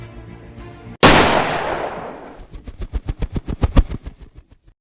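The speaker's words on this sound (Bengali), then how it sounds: "রাগের মাথায় সে বন্দুক তুলে নিজের বিশ্বস্ত কুকুরটিকেই গুলি করল।" A hunter's gun fires in a cartoon: one sharp, loud blast with a long decaying tail, followed by a rapid string of about a dozen shorter rhythmic pops trailing off.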